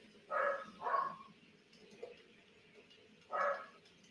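A dog named Ben barks outdoors near a model steam railway, giving three short, moderately distant barks: two in quick succession, then one more after a pause, over quiet background.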